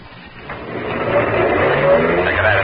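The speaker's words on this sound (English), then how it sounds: "Maxton's car whipped by." A car speeds past in an old radio drama, a rising engine rush that swells from quiet to loud over about two and a half seconds, heard alone.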